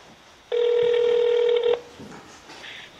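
A steady electronic transfer tone sounds on the US State Department non-immigrant visa phone line, one sustained beep of about a second over a quiet line, followed by faint hiss and soft tones.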